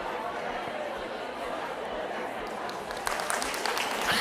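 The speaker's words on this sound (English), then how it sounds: "The claps are just a way to get everybody's attention so we can stop our breakout and come back as a room" Clapping used to call a room of workshop attendees back from breakout conversations, rising briefly near the end over a steady bed of crowd chatter and talk.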